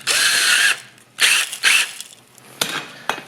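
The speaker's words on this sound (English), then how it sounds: "put the drill on it" A drill drives a homemade jewellery tumbler made from a bottle with a bolt through it, loud close whirring bursts that start and stop, a long run and then shorter pulses with sharp clicks.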